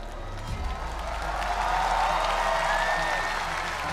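A church congregation gathered for a revival service applauds, a broad, even wave of clapping that swells slightly and holds steady, with a low hum beneath and faint voices.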